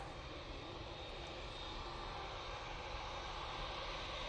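A Juneyao Airlines Boeing 787-9 Dreamliner in petal livery departs Manchester Airport for Shanghai, its engines giving a steady, distant broadband roar that holds evenly throughout, with no talk.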